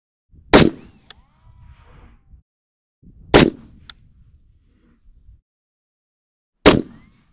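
A .308 AR rifle fires three separate rounds at a 25-yard range, each a sharp, loud crack spaced a few seconds apart, with faint metallic pings and quiet handling noise between shots.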